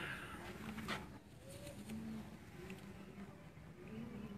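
Racing pigeons of a breed from the Netherlands coo softly nearby, a few low repeated rolling coos over a faint background hum, quiet and close.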